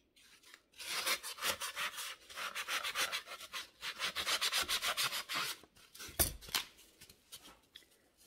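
Scissors slicing through floral foam while making a gnome, a close, dry rubbing and scraping run of repeated cuts with brief pauses, ending in a sharper snip near the end.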